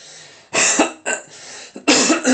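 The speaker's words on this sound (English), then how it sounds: "Coughing up a lung, apparently." A run of harsh, loud coughs up close, three or four bursts in quick succession with short gasps between.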